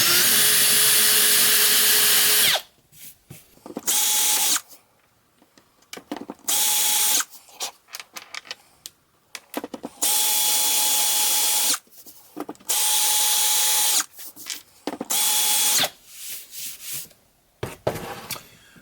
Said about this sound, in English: I'm now going to countersink the holes that I've drilled so that I can nest the heads of these bolts